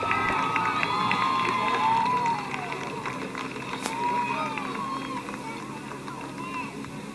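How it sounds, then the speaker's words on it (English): A crowd at Midvale Speedway cheers and applauds in a steady wash of noise, loudest for the first couple of seconds and then easing slightly, with voices mixed in. "Let's give him a nice round of applause."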